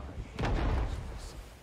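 A single heavy, booming shot in the Vietnam-era shooter Rising Storm 2: Vietnam, muffled and dull with a short rumbling tail, heard over faint background noise.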